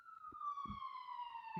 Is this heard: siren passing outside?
yes